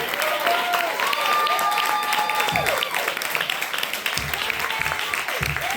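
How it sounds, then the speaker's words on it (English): An audience at a Q&A event gives a sustained round of applause, a continuous wash of clapping with some crowd noise and faint voices mixed in. "can we just give a big round of applause for Oh My God, Yes"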